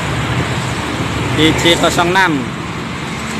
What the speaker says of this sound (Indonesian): Dari timur datang lagi ada armada PO Berlian Jaya belakang dump truck